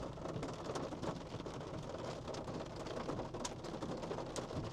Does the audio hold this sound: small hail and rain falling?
yes